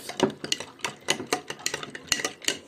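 Baking soda mixture stirred briskly in a bowl for a science experiment, a utensil scraping and clinking against the sides in quick, rhythmic strokes, close and clear with no talk.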